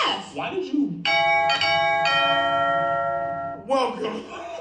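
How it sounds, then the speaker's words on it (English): A doorbell sound effect rings out as a sustained chiming bell tone for a few seconds, loud and clear, with people talking just before and after it. "When would a doorbell noise come up in the show? Right now."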